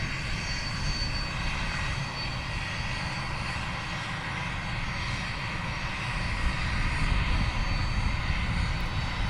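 An RAF Hawk jet taxis for departure at RAF Valley, a continuous loud engine whine and roar that holds steady for the whole stretch and swells slightly near the end, with no voices.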